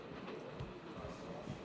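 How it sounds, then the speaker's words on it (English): The Orient Express train rolls along with a steady, muffled rumble and faint rhythmic clatter, heard as continuous low background noise in a cartoon scene. "the world-famous Orient Express, is perhaps the most exciting train of all"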